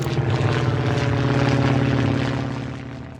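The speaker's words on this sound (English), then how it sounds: "It's quite rude of that plane to be doing those sounds." Propeller airplane flying overhead in the SimCity city-building game, a steady loud droning engine hum that holds for about two and a half seconds and then slowly fades away.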